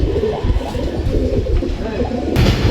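A Saharanpuri pigeon coos in low, repeated murmurs over a dense background hum, with a person talking over it.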